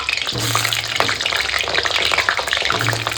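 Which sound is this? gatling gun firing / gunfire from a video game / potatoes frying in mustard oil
potatoes frying in mustard oil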